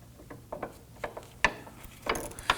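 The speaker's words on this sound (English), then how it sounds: "We use our 18mm wrench on the nut side. I'm going to go ahead and tighten this down." A ratchet clicks in short uneven bursts while a sway bar link nut is tightened on a Nissan Murano, close and fairly faint, with a few sharper metallic ticks.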